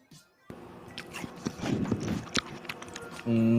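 A person bites and crunches into food, imitating the sound of biting a watermelon: wet, crunchy chewing close to the mic over a few seconds, ending with a brief voiced sound.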